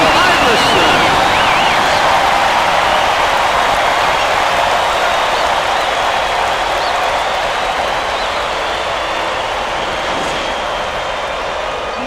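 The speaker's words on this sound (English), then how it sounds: "Listen to the crowd, Vern." A basketball arena crowd cheers in the video game College Hoops 2K8 on Xbox 360, a loud, steady roar that runs unbroken throughout and eases slightly toward the end.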